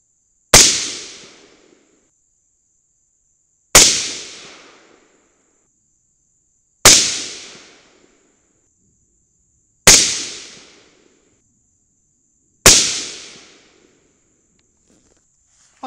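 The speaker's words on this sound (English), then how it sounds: "I wanna shoot a 5-shot group with the suppressor and chronograph on here." Five suppressed shots from a 22 Nosler rifle fitted with a suppressor and chronograph ring out at evenly spaced intervals of about three seconds, each a sharp loud crack with a short decaying tail, silence between.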